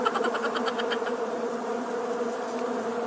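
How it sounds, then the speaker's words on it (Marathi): Steady, close insect buzzing, like bees or flies swarming, droning continuously and evenly throughout with no voices. "आली माशी आली"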